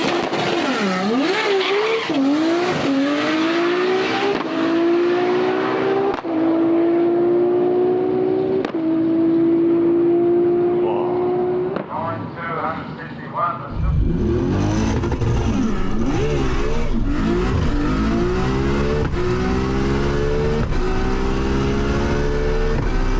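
An 1100hp Nissan R32 Skyline GT-R makes a drag strip run, its engine roaring loud and close through rising gear pulls, with a brief lull at a shift before the turbo engine screams on again at full throttle.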